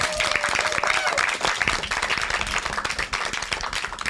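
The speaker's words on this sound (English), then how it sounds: "Well, first of all, a round of applause" An audience at a film preservation festival panel discussion applauds the panelists, a dense, steady wash of many hands clapping at close range, with a voice briefly heard over it.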